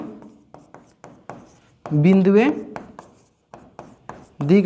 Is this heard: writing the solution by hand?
yes